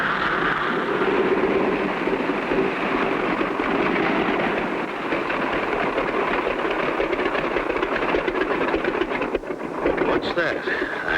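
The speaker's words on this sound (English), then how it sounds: "I hear a motor." A small propeller plane's motor drones steadily throughout, in a bush-pilot adventure set above a forest path, heard alone as a continuous rumbling hum.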